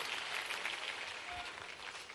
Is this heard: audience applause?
yes